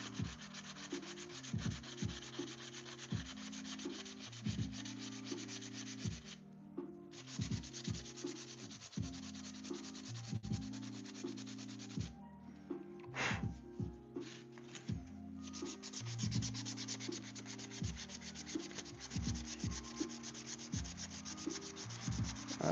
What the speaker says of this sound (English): Still have a lot of sanding left to do to it though.